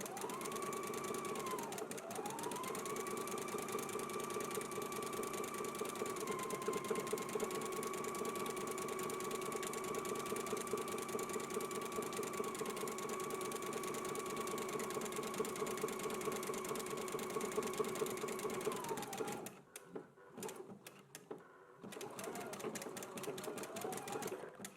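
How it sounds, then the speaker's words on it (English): A sewing machine runs a zigzag stitch along a sleeve hem, a steady, close mechanical whirr with rapid needle ticking that continues for most of the stretch before stopping, then starting again briefly. "Again, I will be doing a zigzag stitch."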